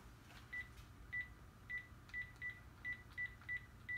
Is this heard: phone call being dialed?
yes